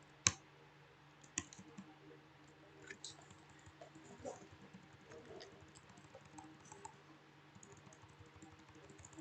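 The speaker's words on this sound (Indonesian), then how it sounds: "Sini kita mengetikkan programnya." Someone types a program on a computer keyboard. The keystrokes are faint and sparse, with a few sharper clicks early on and quiet scattered taps over a low background.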